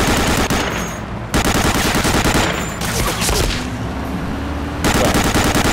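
Continuous loud automatic gunfire from Medal of Honor Allied Assault, a World War II shooter, with rapid machine-gun bursts and scattered shots pounding without pause for several seconds.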